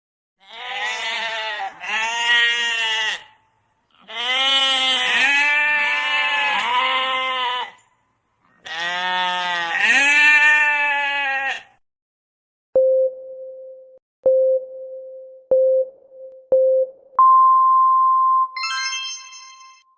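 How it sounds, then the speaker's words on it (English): Three long, loud wavering bleats from a sheep, each separated by short pauses, followed by a series of electronic beeps and a rising tone. "A sheep."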